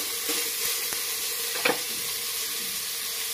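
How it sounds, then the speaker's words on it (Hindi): Potatoes go into cauliflower frying in a pan for tahari, making a steady close sizzle with a brief louder clatter and burst of stirring partway through, and no voices. "2 मिनट हो गया है और मैं इसमें आलू को ऐड कर रही हूँ"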